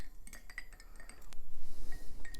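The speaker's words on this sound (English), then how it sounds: "Stir carefully." A spoon stirs cold brew coffee in a cup, giving a run of light metallic clinks and scrapes against the glass, close and alone.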